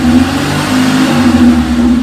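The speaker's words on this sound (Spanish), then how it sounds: "Vamos a acelerar un poco para quitar las telarañas." Car engine held at a steady raised rev during an ITV emissions test, a continuous loud hum with a constant tone lasting throughout, alone with no talk.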